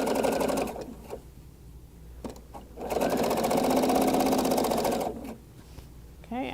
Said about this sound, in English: one hand is pulling the fabric through evenly, and then one hand is guiding the width of the seam allowance